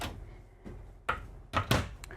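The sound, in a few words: slide-out pantry drawers in Newmar Ventana 4310 RV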